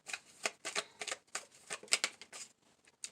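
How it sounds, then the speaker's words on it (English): Tarot message cards are shuffled by hand in a quiet room, making a run of quick, soft riffling bursts and papery flicks in an uneven rhythm, close and alone without speech. "Let's pull a few message cards here for Capricorn."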